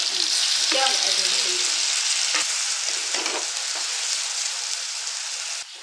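Fish head frying in a pan with tomato, chilli and onion, a loud steady sizzle with stirring scrapes near the start, continuing unbroken to the end.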